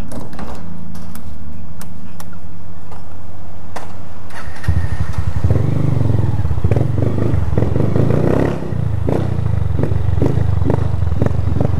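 Small mini motorcycle engine running close and loud, a rough steady idle that jumps to a harsher, fuller revving roar midway, with clattery mechanical rattle throughout and no talk.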